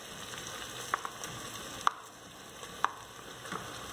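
Chunks of beef shank frying in a pan with softened onions, a steady sizzle with a few sharp pops and clicks spaced out across the clip.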